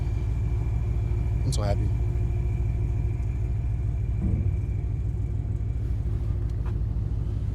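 A boosted Ford Mustang GT being driven, its steady engine rumble carrying a faint high whistle throughout, with a person speaking briefly over the drone.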